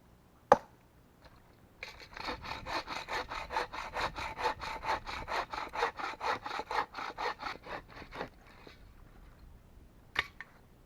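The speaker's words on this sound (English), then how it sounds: "Here's a little trick for cutting firewood." A hand saw cutting through firewood outdoors in the wilderness, steady back-and-forth strokes close by for about six seconds, bracketed by a sharp knock before and after, with no talking.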